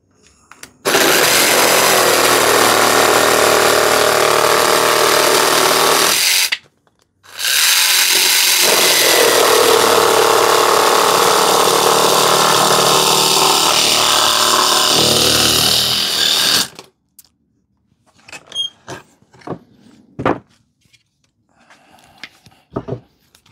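A Parkside PSSSA 20 LI B2 cordless 2-in-1 jigsaw and sabre saw runs loud and close in two long buzzing bursts separated by a short pause, followed by scattered clicks and clatter as it is handled.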